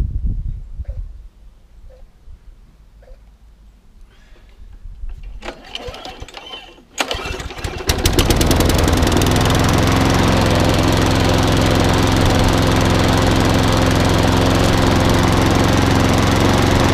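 A 2006 driven lawn mower with a Briggs engine sits quietly, then is pulled over and fires up around the eighth second, settling into a loud, steady, close running drone.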